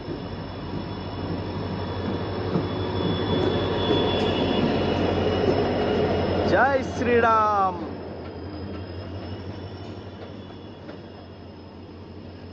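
The Kanchanjunga Express (Sabroom–Sealdah) rumbles into platform one at New Guwahati station, its wheels squealing loudly as it slows, while a crowd chatters and someone calls out nearby.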